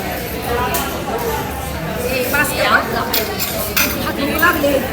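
Spoons and cutlery clink against steel dishes and containers while food is served at an office lunch, with light, irregular taps and scrapes under steady nearby chatter.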